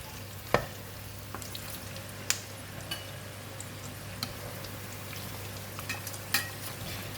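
Breaded pork ribs deep-fry in hot oil until golden brown and crispy, a steady soft hiss of bubbling oil broken by occasional sharp pops and light clicks, fairly quiet and close with no voices.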